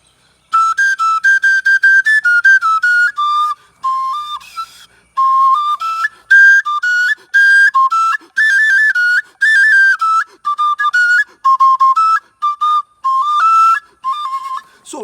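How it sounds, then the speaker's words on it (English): A shrill wooden Igbo oja flute plays a fast, bright melody in short repeated phrases with brief gaps, loud and close, no voices. "Sometimes I can blow flute"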